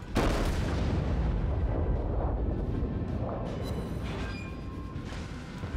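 Battleship main-gun salvo in the naval video game World of Warships: a loud, heavy booming blast followed by a long rolling rumble that slowly fades over several seconds, with no talk.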